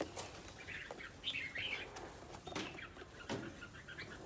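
Wings flap in soft bursts amid faint chirps and tweets, with a steady noisy background.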